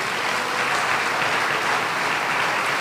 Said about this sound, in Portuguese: Será que você pode dar um aplauso bem forte ao Senhor?